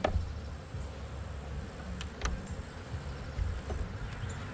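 A small, calm colony of honeybees hums faintly inside their hive, a steady low drone with no voices.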